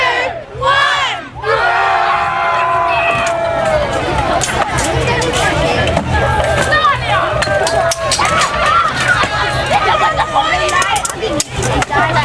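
A large crowd at a medieval fayre battle re-enactment roars and cheers loudly and continuously, with shouted battle cries and excited voices layered throughout.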